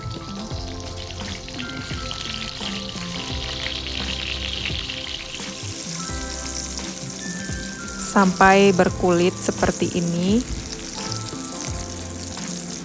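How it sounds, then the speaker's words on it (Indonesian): Eggs sizzle and crackle in hot oil while being fried for Indonesian balado eggs, with loud popping and spattering bursts midway and a voice talking over the frying. "Setelah minyak panas, goreng telurnya."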